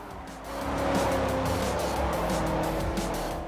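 A mid-60s muscle car of well over 400 horsepower in a racing game, its engine roaring steadily and close with a faint tire squeal, no voices.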